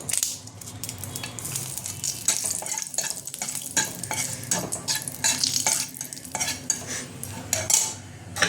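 Whole spices and a torn bay leaf tempering in hot oil for a Bengali bottle gourd tok jhal, a steady loud sizzle and crackle with a spoon stirring and scraping the pan throughout.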